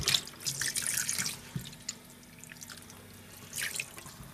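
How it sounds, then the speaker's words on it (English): Tap water trickles over cured trout in a sink, a faint close splash and drip, with slightly louder bursts at the start and near the end. "we've had about 5 minutes worth of water running over and a little bit of soakage"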